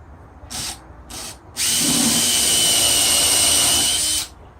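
A power drill gives two brief bursts, then runs steadily for a few seconds as it bores into wood, loud and close.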